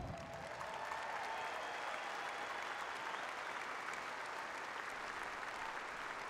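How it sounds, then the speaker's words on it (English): A large arena crowd at a basketball halftime tribute to Denny Crum claps in a steady, sustained roar, heard from a distance with no speech over it. "please show them our appreciation with a huge round of applause"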